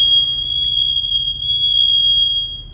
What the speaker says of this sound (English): The fire alarm going off.